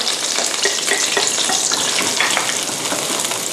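Garlic stir-fried in hot oil for chili-salt shrimp, a steady dense sizzle with scraping stir strokes running throughout, close and loud.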